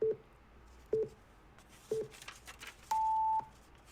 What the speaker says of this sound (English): I'm going to start that timer right now.